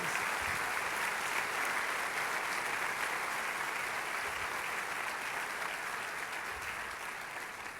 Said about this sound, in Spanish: Vamos, dale ese aplauso al Rey de Reyes.